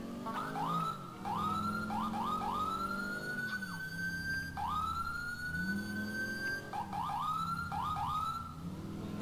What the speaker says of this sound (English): this is the Wheeling Epison siren, I believe